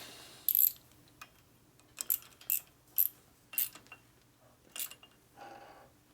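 A part is tightened on a 2001 Gilroy Indian Chief race bike during a rebuild: a handful of sharp, faint metallic ratchet clicks spaced irregularly over a quiet background, with no voices.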